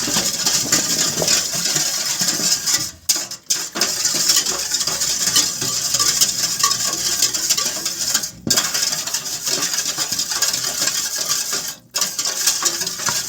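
A spoon stirs yeast with a little sugar into warm water, giving continuous close scraping and light clinking against the container, broken by a few brief pauses.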